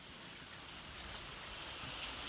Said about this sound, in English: We're getting a fake flood, aka so much rain that our draining system can't handle it